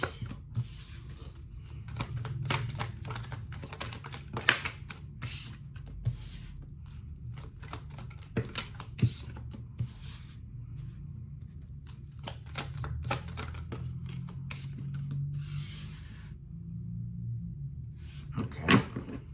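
Tarot cards being pulled from a deck, with soft repeated shuffling, flicking and sliding sounds scattered irregularly over a quiet room background.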